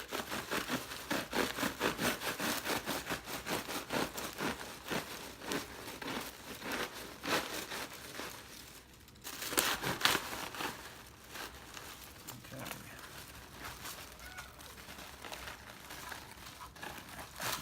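Steady crinkling and tearing as a papery bald-faced hornet nest, still attached to a bit of branch, is cut open sideways, a close, continuous scratchy rasp with a brief pause midway.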